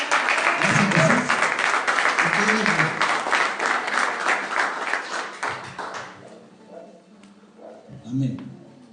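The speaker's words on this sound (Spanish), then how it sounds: "Así que dale un aplauso al Señor." A church congregation claps together in loud, sustained applause while a voice speaks over it; the clapping fades after about six seconds and talking continues.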